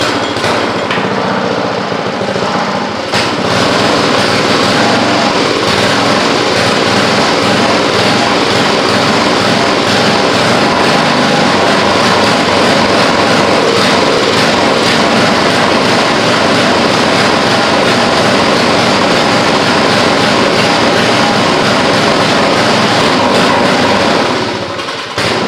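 A rototiller engine, started with the choke on after earlier trouble starting, runs steadily and loudly with a dense, rough drone that holds for over twenty seconds before cutting out.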